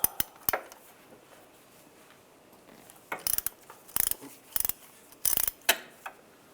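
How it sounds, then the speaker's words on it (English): A 6mm hex socket on a ratchet removes the serpentine belt idler pulley bolt on a 1995-2005 Volkswagen Jetta, with short bursts of sharp close clicking separated by quiet pauses. "I'm going to use a 6mm hex socket. Take this bolt out."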